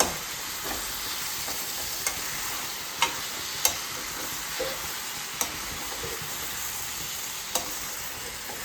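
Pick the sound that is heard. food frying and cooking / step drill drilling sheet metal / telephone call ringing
food frying and cooking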